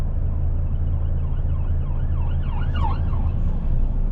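Police car sirens wailing in rising and falling sweeps at a distance, heard from inside a delivery truck over its loud, steady low engine rumble.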